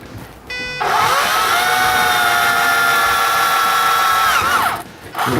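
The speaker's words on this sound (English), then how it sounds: "We drill into it on the one side" A power drill bores a pivot hole through a part of a planetary rover chassis, a steady high whine held for about four seconds before spinning down, loud and close, with a brief start and stop at either end.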